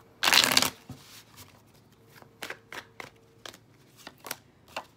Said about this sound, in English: I'm going to pull a tarot and an oracle card for this one.